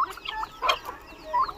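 Hens on a low-cost poultry farm in Assam give a few short, close clucks in quick succession, with brief pauses between them.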